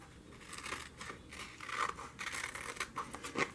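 Scissors snip paper in a craft fussy-cutting session, with a series of close, crisp cutting strokes and faint rustling of the sheet in a quiet room.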